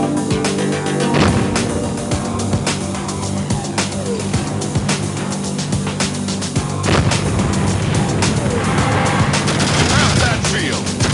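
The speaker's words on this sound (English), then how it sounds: "1 or 2 solid shots from the main gun should clear it." Dense combat noise from the sci-fi shooter Tribes Vengeance, with repeated heavy gunfire and booming blasts from a tank's main gun against a blockade, continuous and loud over a rumbling engine, with a voice speaking briefly underneath.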